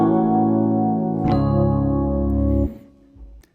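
Sustained orchestral chords from Strauss's opera Salome resolve in a plagal amen cadence, a loud held harmony shifting to a new chord midway before cutting off, leaving a faint low tail.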